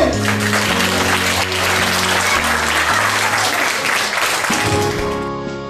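Loud, sustained applause from a crowd at a preschool end-of-year festival, continuous clapping over a backing of steady musical tones, fading slightly toward the end.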